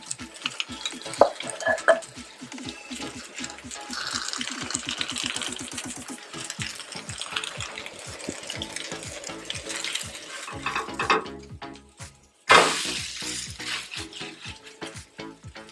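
Okonomiyaki frying on a griddle over medium heat, a steady crackling sizzle with rhythmic scraping or stirring taps through most of it, a brief pause near the end, then a sharper burst of sizzle.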